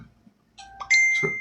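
A doorbell rings with a bright ding-dong chime, its tones overlapping and ringing out clearly after a few soft clicks, fairly close and without speech.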